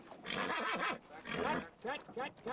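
A horse neighs and whinnies on a film set, a series of wavering, quivering calls close by, with people talking around it.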